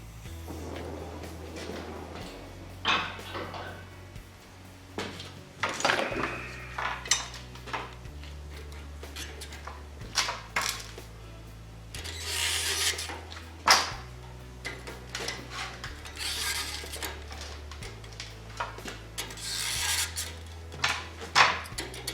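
Blacksmith tongs squeeze and work the hot steel petals of a forged rose, giving a run of irregular metallic clanks, scrapes and knocks, fairly close and loud, with a low steady music bed underneath.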